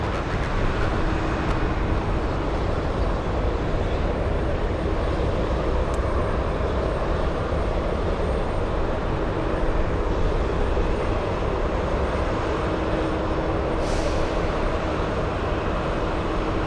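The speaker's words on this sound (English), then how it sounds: "We have the A330 racing down the runway." An Airbus A330 roars down the runway on its takeoff run at Boston Logan airport, a loud, steady jet engine rumble filling the whole stretch with no voices.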